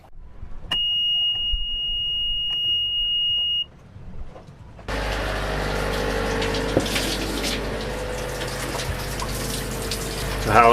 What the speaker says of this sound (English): I'm going to go start the motor just for you